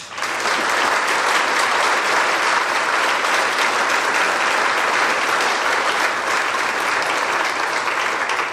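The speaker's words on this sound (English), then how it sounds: "Everyone, please join me in another round of applause for the loved ones being remembered tonight, our donors, and the students being recognized." Dense, sustained audience applause fills a hall at a senior awards night, steady and loud throughout with no break and no voices standing out.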